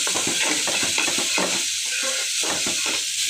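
Chopped vegetables frying in a pan until soft, a close, even sizzle broken by rhythmic scraping strokes of stirring.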